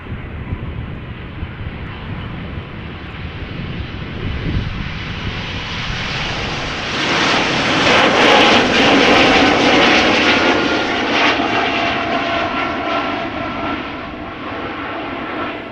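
Embraer E2 jet taking off at Amsterdam Schiphol Airport, its engine roar building from a low rumble to a loud, broad jet blast near the middle before easing slightly as it climbs away.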